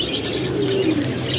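Pigeons coo softly and continuously in a pigeon shop, with low murmuring calls and faint chirps blending into a busy background.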